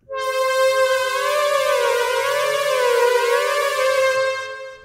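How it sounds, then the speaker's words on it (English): A sustained Roland System-8 synthesizer tone with a warbling, wavering pitch from LFO modulation, bending gently up and down, loud and continuous before fading out. "this is going to start to give us a little bit of pitch mod, LFO pitch"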